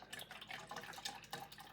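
Beef broth is poured into a can, giving a soft, continuous splashing trickle with small gurgles, quiet and close, with no talking.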